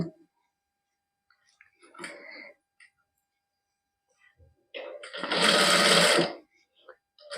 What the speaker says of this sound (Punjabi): ਹੁਣ ਆਪਾਂ ਲੰਮੀ ਪਲੋਈ ਤੇ ਸਿਲਾਈ ਲਾ ਲੈਂਦੇ